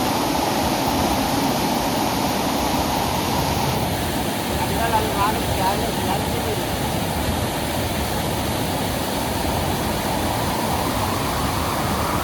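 The Jogigundi Falls waterfall near Shimoga in the monsoon gives a constant, dense roar of rushing water, with a faint high tone and some muffled talk underneath.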